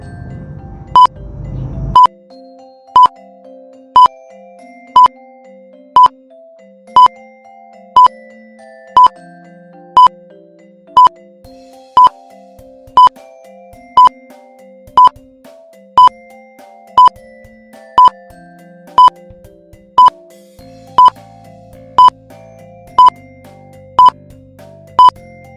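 Countdown timer beeping for a classroom quiz activity: a steady train of sharp, evenly spaced beeps, about one per second, over soft background music, with a brief low rumble at the start.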